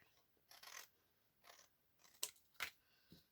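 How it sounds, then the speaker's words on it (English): Scissors trimming paper for a vintage Victorian shabby-chic winter scrapbook journal: several short, crisp snips and cuts spaced unevenly, quiet and close, with no talking. "Let me do a little trimming."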